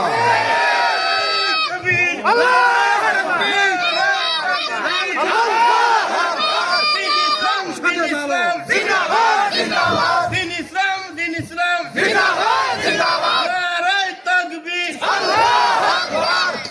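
A large crowd at a religious gathering shouts the takbir chant Allahu Akbar, loud massed voices in repeated rhythmic bursts, with a leader's voice calling between them.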